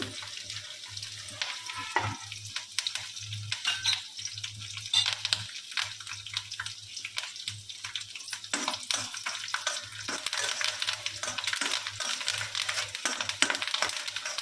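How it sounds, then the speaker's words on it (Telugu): Garlic and then curry leaves crackle and sizzle in hot oil as the tempering for a grandmother's coconut chutney, with a steady close frying hiss and sharp pops and spatters throughout. "ముందుగా ఎల్లిపాయ వేసాము, తర్వాత కరివేపాకు,"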